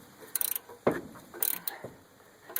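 Ball joint separator tool being tightened on an early Volkswagen Vanagon's upper ball joint: a few separate bursts of metallic clicking and ratcheting, fairly close and moderately loud, with short pauses between them.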